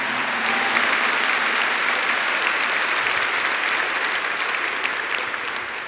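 A church congregation breaks into full, sustained applause during a sermon, a thick steady roar of many hands that fills the whole stretch without speech.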